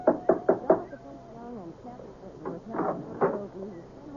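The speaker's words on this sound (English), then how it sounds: "There was a big brass knocker on the front door." A big brass knocker on a front door strikes four quick, loud raps, followed by faint talk and later softer knocks.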